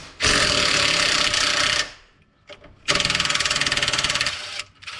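A power tool loosening 8mm socket bolts on a JL Jeep Wrangler during a Garvin Industries Expedition Rack install, two loud close bursts of whirring ratcheting drive with a short quiet gap between them, no talking.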